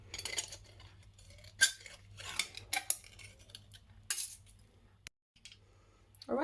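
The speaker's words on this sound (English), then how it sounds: "I'm just going to snip that in" Metal scissors snip a tin-can poppy petal, giving several short sharp clicks and clinks scattered between quieter handling rustles, close up and clear with no talking.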